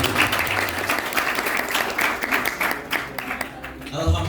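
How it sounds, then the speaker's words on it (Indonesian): An audience applauds at a school mini cinema opening at SMKN 1 Ciomas. The clapping is loud and sustained, with voices mixed into it, and it fades near the end. "Oke, tepuk tangan buat semuanya."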